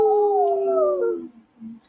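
A person imitates a wolf howl with one sustained, gliding falling tone lasting about a second, followed by a brief softer vocal sound.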